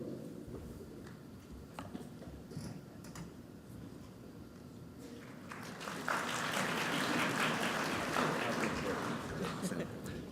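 An audience at a large academic conference general session breaks into clapping partway through, a dense wash of applause that swells and holds to the end after a quieter stretch with a voice talking.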